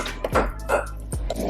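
Avocados are mashed for guacamole with a few soft, dull squelching thumps and scrapes of utensil against bowl, close up and without talking.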